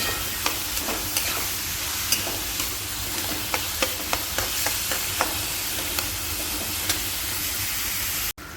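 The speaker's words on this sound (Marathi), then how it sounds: "कांदा पण एकदम छान असा परतून घ्यायचा आहे तेल सुकेपर्यंत" Chopped onion fries in oil in a pan over a high gas flame while an egg curry is being made. A loud, continuous sizzle carries regular clicks and scrapes from the stirring spoon, then cuts off abruptly at the end.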